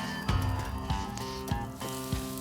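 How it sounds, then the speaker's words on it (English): Steady sizzling of meat, pepper and tomato juices frying in a hot pan, with a few louder bursts of spatter and clinks of a utensil stirring. "Most juice will sizzle out."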